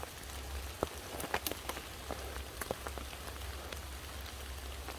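Rain falling on leaves during wet, dark mushroom picking, a soft steady patter close by with scattered sharper drops landing at irregular moments, faint and without voices.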